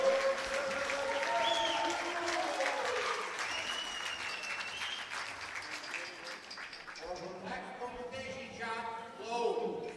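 A crowd cheers and applauds at a men's 10m air pistol gold medal final, sustained clapping and whistles with a commentator talking over it.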